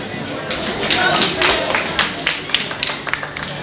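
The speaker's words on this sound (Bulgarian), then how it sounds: "Аплодисменти за нея." An audience applauds a schoolgirl receiving a gift, dense clapping that thins into a few scattered claps, with voices talking over it.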